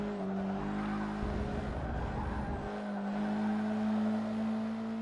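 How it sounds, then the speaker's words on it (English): A raspy four-cylinder racing engine in the video game Forza Motorsport 6 revs hard and steadily, with pitch shifts as it changes gear, continuous and fairly loud. "Such a nice raspy little 4-cylinder engine."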